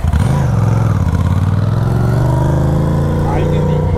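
A loud motorcycle passes close on a road, its engine holding a steady mid-pitched drone throughout with slight rising revs near the end, while people talk over it.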